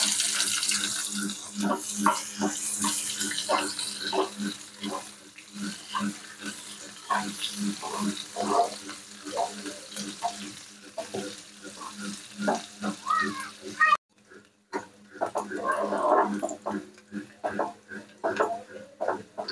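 Onions fry in hot oil in a wok for a Bengali fish curry, giving a loud, continuous bubbling sizzle with clattering stir strokes, close by, before dropping briefly and resuming more faintly.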